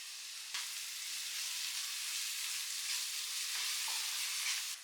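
Vegetables seasoned with salt and garam masala are stirred in a hot pan, giving a loud, continuous hissing sizzle with a sharp utensil tap early on and occasional scraping, no speech.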